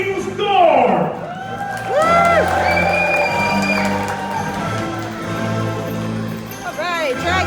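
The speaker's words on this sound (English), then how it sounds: "raise a cheer for the horses and riders of the Queen's Guard!" A crowd at a medieval tournament show cheers and whoops for the Queen's Guard horses and riders, loud bursts of shouting with an announcer's voice ringing out over them.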